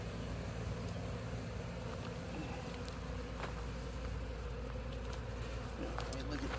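A swarm of honeybees hums densely around a log during removal, a constant close buzzing that fills the whole stretch with faint background noise beneath.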